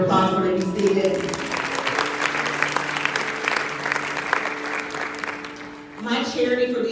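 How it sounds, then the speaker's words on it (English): An audience at a North Carolina School Council Association opening kickoff applauds steadily for several seconds, with a speaker's voice heard at the start and again as the clapping fades. "We'll give them one more round of applause for they be seated."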